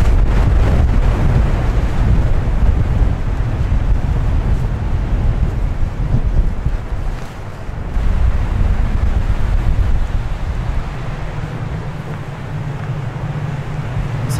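Strong gusting wind at Kowada campsite during a heavy rain and wind storm roars across the microphone throughout, a loud, continuous low buffeting that eases briefly midway before building again.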